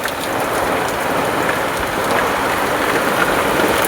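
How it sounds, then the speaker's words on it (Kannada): Heavy rain pours steadily onto surfaces outside a house, a dense, constant hiss of close drops with no voices over it. "ಫುಲ್ ಮಳೆ"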